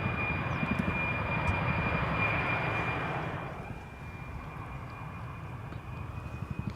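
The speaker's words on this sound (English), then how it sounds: "A777 coming in." KLM Boeing 777-300 jet arriving at Amsterdam Schiphol: a low, steady engine rumble with a thin high whine, loud at first then dropping off after about three seconds as it passes, no talk.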